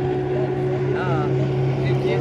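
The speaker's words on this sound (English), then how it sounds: "That boat just passed them." Motorboat on the Lower Current River, a steady close engine drone with a sustained low hum throughout, while people talk over it.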